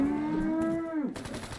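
Cow in the video game Fallout 4 letting out one long, loud, close moo that drops in pitch at the end, followed by a burst of rapid gunfire.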